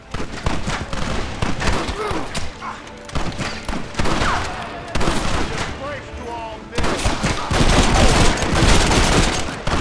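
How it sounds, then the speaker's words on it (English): Rapid sustained gunfire from a Gatling gun in the Western game Red Dead Redemption, loud dense bursts rolling on across the whole stretch, with shouting voices mixed in during the battle. "We need more fire! Gatling gun, use it!"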